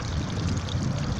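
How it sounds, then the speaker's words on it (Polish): Water trickles weakly down a small garden pond waterfall, its pump likely clogged, making a steady, close, continuous splashing wash with no break. "Tak, wodospadzik tutaj. To jest słabo i ta woda tu spływa."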